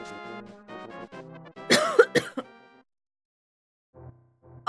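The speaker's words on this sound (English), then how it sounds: "so sorry about the coughing" A sick person coughs close up, a few harsh bursts mixed with throat clearing, between stretches of game music and a short silence.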